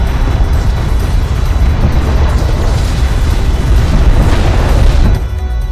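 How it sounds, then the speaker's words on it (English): An enemy airstrike in the video game Homeworld: Deserts of Kharak produces a loud, sustained rumbling boom of explosions that roars continuously and then eases off near the end. "Enemy airstrike inbound."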